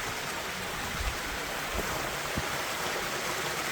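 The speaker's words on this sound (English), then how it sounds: "Here's the next waterfall." Rushing water roars continuously nearby, a dense, steady hiss of a waterfall in Whitney Canyon, Newhall, with no talking.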